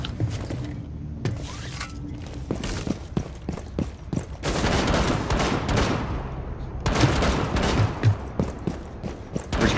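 Gunfire in the tactical shooter Rainbow Six Siege during a hostage match, with rapid bursts and single shots, some loud and close and others more distant, plus clattering mechanical noises, with no talk.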